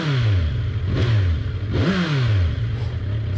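A Kawasaki Z900 motorcycle with its stock exhaust revs up twice, each rise in pitch followed by a falling note. The engine is loud and close, with no talk over it.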